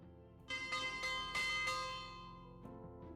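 A bell rings out to signal lunchtime, several resonant metallic strikes in quick succession that swell and then fade with a lingering ring, moderately loud with no talking.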